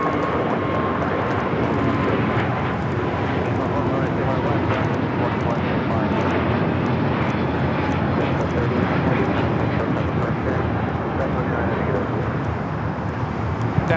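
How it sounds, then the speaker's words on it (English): A Delta Airlines Airbus A350-900 taking off at Los Angeles airport makes a loud, continuous jet roar that holds steady and dense throughout, heard from nearby. "That is Delta Airlines Flight 39 taking off to Shanghai on the A350 900 in the 100 years livery."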